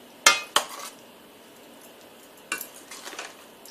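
A spoon stirs salt into tamarind sauce in a pot, giving a few sharp metallic clinks and scrapes near the start and a softer cluster of scraping later, separated by quiet.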